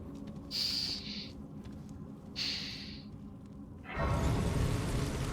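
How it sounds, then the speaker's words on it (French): Two short, breathy nasal sniffs close to the mic, a pause between them, then a longer rush of breath or noise. "vous m'excuserez si je renifle un peu, j'ai encore des allergies"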